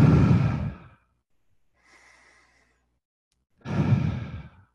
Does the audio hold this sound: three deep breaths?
yes